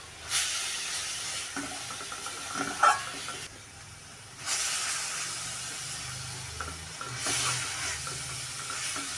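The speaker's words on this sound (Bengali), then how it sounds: "গাজরের হালুয়া রান্নার শেষের দিকে অনবরত নাড়তে হবে নাহলে নিচে লাগে যাবে" Carrot halwa being stirred in a pan near the end of cooking, a close hissing sizzle with scraping strokes that swell and fade in waves, no voices.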